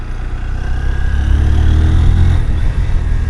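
A Honda X Blade 160cc motorcycle engine drones loudly while being ridden through corners, a steady mid-pitched rumble with slight rises and dips in revs plus wind buffeting.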